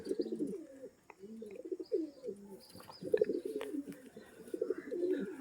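Kaldoma pigeons, a pure breeding pair with the male displaying, coo in repeated low throaty rolls, close and fairly loud, with faint chirps in the background and no speech.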